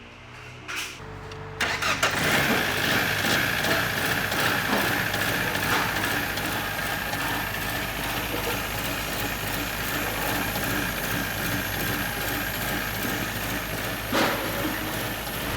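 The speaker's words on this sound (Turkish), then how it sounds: "Şimdi marş yapıyoruz." A Fiat Albea engine cranks briefly and catches, then idles steadily at close range with a constant hum and faint rattle for the remaining seconds.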